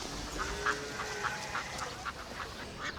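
Ducks at a pond quack several times over a steady outdoor background. The calls are brief, moderate in loudness and somewhat distant, and no one speaks.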